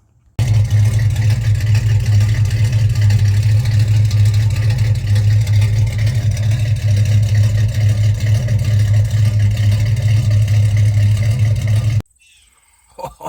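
Carbureted engine with an Edelbrock 1405 carburetor idling cold, a steady low rumbling drone held close and loud for about twelve seconds before cutting off abruptly.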